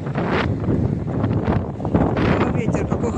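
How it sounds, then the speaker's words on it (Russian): Cold wind buffets the microphone outdoors on a chilly day, a steady broadband rumble lasting throughout with gusty swells, while a voice talks over it. "О, ветер какой холоднючий!"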